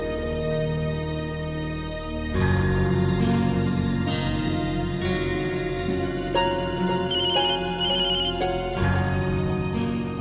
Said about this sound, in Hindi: Please please please Aanchal phone तुम उठाना।